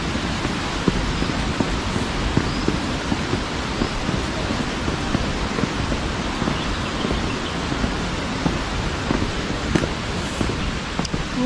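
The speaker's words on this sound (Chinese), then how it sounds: "听见水声响" Rushing water at the Tianhe Pool scenic area in Guizhou, a loud, dense, continuous roar of flowing water with no voices over it.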